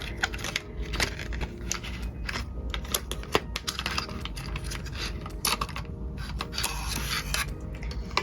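Pens are pulled free of their plastic and cardboard packaging, producing close, irregular crinkles, snaps and tapping clicks in quick bursts with no voices.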